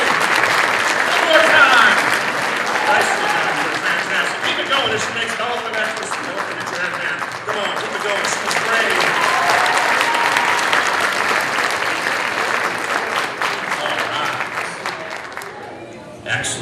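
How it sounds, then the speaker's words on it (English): Audience applause fills a college auditorium after a volunteer's turn at an illusionist's stage show, steady dense clapping from a crowd lasting about sixteen seconds, with a few voices mixed in before it fades at the end. "you will bow to thunderous applause"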